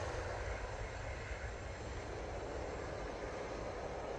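An airplane taking off from Manchester Airport bound for Inverness gives a steady, broad engine roar that stays constant and somewhat distant throughout.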